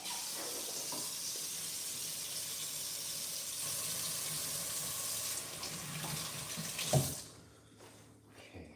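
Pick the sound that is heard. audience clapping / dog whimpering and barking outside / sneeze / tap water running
tap water running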